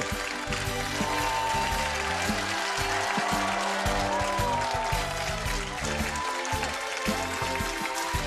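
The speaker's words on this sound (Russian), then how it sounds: "под аплодисменты зрительного зала, я приглашаю в студию первую тройку игроков" Studio audience at the Russian TV game show Pole Chudes breaking into sustained applause, a dense, even wash of clapping that runs throughout with music playing underneath.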